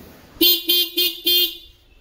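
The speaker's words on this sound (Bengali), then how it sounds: "গাড়ির হর্নে দেখি সাউন্ডটা কেমন কম কম মনে হচ্ছে।" A motorbike's weak dual horn gives four short, evenly spaced toots, each a thin nasal blare close to the microphone.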